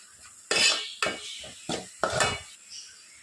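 A spoon working masala in a pan over a medium flame, with five distinct metallic scrapes and clinks in an uneven rhythm, close by, and a light sizzle under them.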